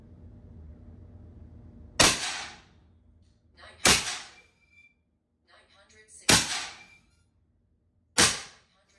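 Four sharp, loud shots from a Western Rattler .357 air revolver, fired at irregular intervals of about two seconds, each a crisp crack with a short decay and faint mechanical handling noise between them.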